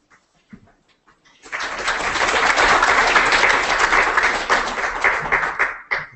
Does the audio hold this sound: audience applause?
yes